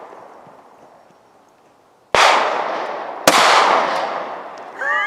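A 9mm pistol fires into ballistic gel outdoors, two sharp, loud cracks about a second apart, each with a ringing decay, followed by brief chirping in the background.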